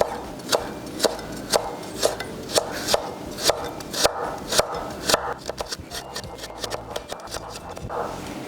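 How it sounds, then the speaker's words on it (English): A knife julienning vegetables lengthwise into thin strips taps the cutting board in crisp, evenly spaced chops, steady at first and then quicker and more irregular, close and clear. "you're going to make very small slices in them"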